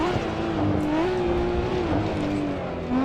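A Nissan R32 GTR at speed on the Nordschleife, its engine loud and close with a sustained howl that wavers slightly in pitch through corners, with faint tyre noise underneath.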